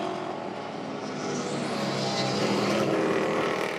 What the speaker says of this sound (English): DJ, you hear him just spinning those tires